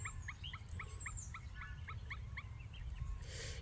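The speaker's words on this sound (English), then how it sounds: "I can hear paradise ducks flying over the island." Paradise ducks call over an island in a rapid series of short honking notes, moderately distant above a steady low rumble of wind and surf.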